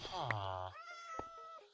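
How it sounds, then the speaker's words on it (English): Meowing cat in a video game, a single drawn-out call with clear harmonics followed by a second shorter meow, both close and loud with nothing else over them. "The cat would like it to be known they are here."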